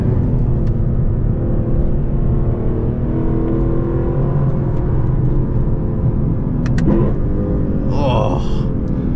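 A Lexus LC 500 drives a race track at Mid-Ohio, its engine a steady loud droning rumble with rising revs and whirring, close and continuous throughout, with no talk.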